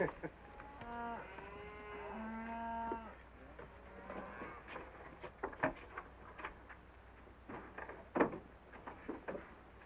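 Several drawn-out cow moos sound close by, overlapping at first, followed by scattered clicks, taps and shuffling noises.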